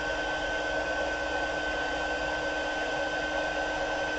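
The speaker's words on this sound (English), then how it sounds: "we're going to do the same thing with our heat tool" An embossing heat tool blows hot air in a steady, close, continuous whooshing hum with a faint tonal whine, uninterrupted throughout and with no voices.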